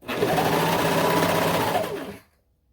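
A sewing machine runs in one fast, steady burst while stitching a stretched neckband onto a small doll leotard, loud and close, then stops abruptly into silence.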